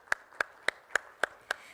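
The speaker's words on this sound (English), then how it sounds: "A huge round of applause for her, everyone." Six evenly spaced single claps, close and crisp, from someone applauding a speaker at a women's health technology session, with no voices.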